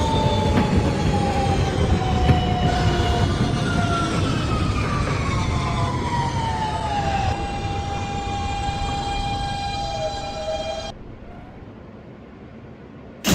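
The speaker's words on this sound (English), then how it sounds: "This is a Queens-bound E train via the W line." An R160 Siemens subway train runs in the openBVE simulator on an E route, giving a loud steady rumble with whining motor tones that fall in pitch, then stopping abruptly into quiet.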